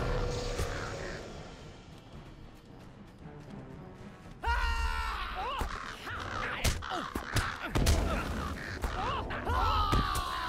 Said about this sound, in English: So let me kill these crows at first.